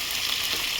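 Carrots, beans and peas fry in ghee with a brief, steady, close-up sizzle and hiss, without any talk.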